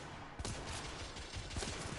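Rapid gunfire in the video game The Order, aimed at headshots: a steady stream of close, punchy shots with a few heavier thuds, fairly quiet overall and without speech.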